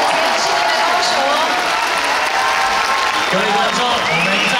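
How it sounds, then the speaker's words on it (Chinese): Loud crowd applause and cheering fill an arena at a world professional Latin cha cha cha semi-final of a ballroom dance competition, with an announcer's amplified voice carrying over the constant roar. "接下来我们所有好朋友送上你热情的掌声"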